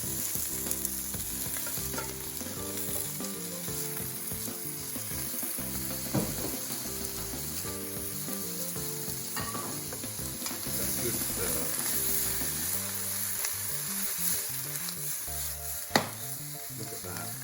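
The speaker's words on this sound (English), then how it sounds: "Now I'm going to add my pasta into this." Pasta and tomatoes frying in a hot pan, a steady close sizzle with stirring and occasional clinks of a utensil against the pan throughout, no talk.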